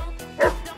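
A single short, sharp bark from a dog close by, where a giant Gaolang fighting dog faces a German shepherd.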